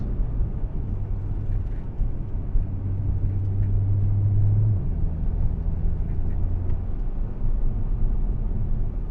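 Interior drone of a 992-generation Porsche 911 fitted with carbon ceramic brakes as it slows into a braking zone, a steady low engine and road rumble with a brief tonal hum in the middle.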